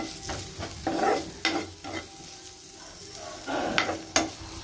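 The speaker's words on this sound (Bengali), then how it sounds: "এখানে আলু বিনস ভাজা হচ্ছে" Potatoes and beans frying in a pan, a soft sizzle broken by repeated scraping stirs of a spatula at an uneven pace.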